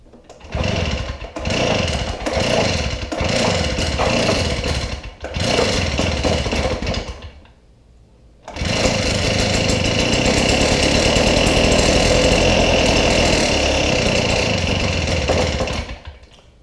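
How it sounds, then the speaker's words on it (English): A Stihl backpack blower engine runs loud and close, revving with throttle in several bursts, dropping briefly to idle, then holding a sustained high roar before cutting back. "I'll try and give it some throttle and see if it'll"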